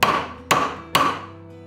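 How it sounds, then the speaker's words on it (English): A dead blow hammer strikes a thick silver cuff bracelet on an anvil three times in a steady rhythm. Each close, sharp blow carries a bright metallic ring that fades before the next. "This is a dead blow hammer, which is good because it doesn't bounce."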